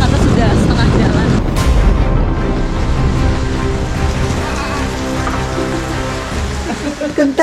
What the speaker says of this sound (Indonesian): Ditambah lagi ini sedang hujan besar gitu ya